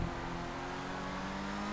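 A sustained race car engine drone from the RE7B in GTA5 Online, a steady, fairly loud mechanical tone holding through the lap with no talk.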